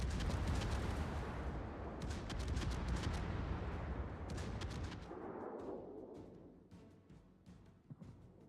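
Warship guns in World of Warships boom in heavy salvos, with several sharp reports over a rumbling wash that fades toward quieter, scattered shots at the end; fairly distant and low in level.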